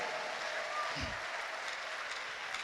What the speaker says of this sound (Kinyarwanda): Muyihe amashyi yo hejuru muhagaze.